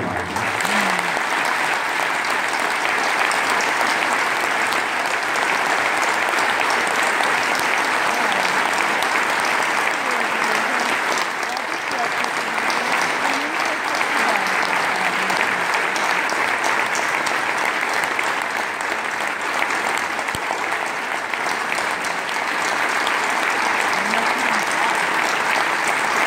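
Sustained audience applause after a reading-theatre performance, a loud, dense and even roar of many hands clapping that continues without a break, with faint voices now and then underneath.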